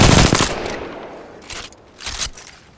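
Gunfire in the Apex Legends video game: a loud rapid burst opens, then two shorter volleys follow around the middle and near the end, with no talking.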